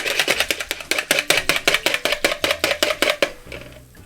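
Whisk beating against a bowl while tamarind juice drink is mixed, a fast regular run of crisp taps, about four per second, close and steady before trailing off near the end.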